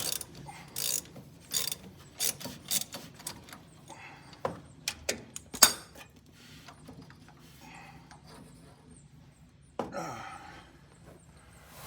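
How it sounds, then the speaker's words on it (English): Puller screw cranked with a ratchet to pull the harmonic balancer off a Ford small-block 302/351 crankshaft. Close bursts of ratcheting clicks and metallic creaks come with short pauses between them, and a louder clunk follows late on. "as you run that screw in, it pushes against the crank and pulls that harmonic balancer off"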